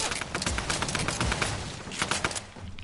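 Rapid bursts of video game gunfire crackle throughout, dense and loud, with volleys clustering near the start and again toward the end.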